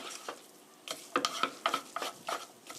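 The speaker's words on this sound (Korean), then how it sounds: "1 minute stir fry" Spaghetti and cabbage being stir-fried in a pan: a quiet run of scraping, clattering stirring strokes over a soft sizzle, coming in quick irregular bursts.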